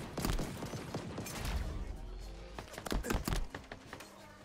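Bursts of gunfire in Halo Infinite's Last Spartan Standing mode, loud and dense at first, easing off midway, then surging again in rapid overlapping volleys near the end.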